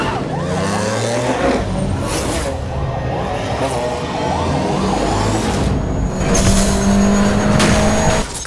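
Race cars speed through a sprint race in Need for Speed Most Wanted 2, engines whining and shifting pitch close by with a siren-like tone rising near the end, loud and continuous.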